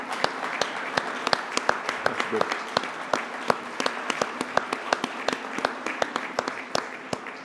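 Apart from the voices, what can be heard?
audience applause for conference sponsors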